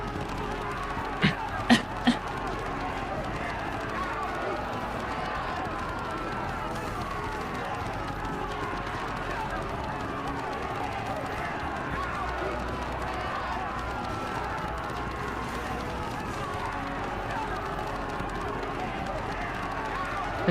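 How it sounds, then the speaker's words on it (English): Panicking rioters in the video game Baldr Sky run through the streets, their footsteps forming a continuous rumbling crowd patter with a few sharp accents near the start, and speech running over it. "Suddenly, footsteps resound through the streets. The panicking rioters rush towards us."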